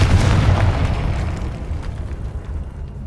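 A Confringo fire spell explodes in the video game Hogwarts Legacy, a loud, deep boom that rolls out and slowly fades over a few seconds, with no speech over it.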